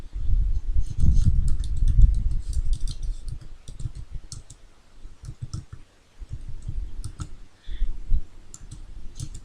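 Rapid, close clicking from keystrokes on a computer keyboard with a few mouse clicks, coming in uneven bursts with short pauses between them.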